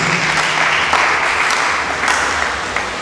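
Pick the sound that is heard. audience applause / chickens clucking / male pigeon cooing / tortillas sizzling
audience applause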